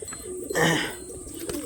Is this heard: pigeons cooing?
yes